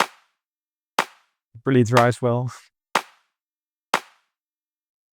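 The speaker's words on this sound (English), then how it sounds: "It's just a hand clap. This is how it sounds like." Single hand clap drum sample from an Ableton Afro House remix, sharp and dry, struck about once a second in an evenly spaced sequence, with a brief spoken remark in the middle.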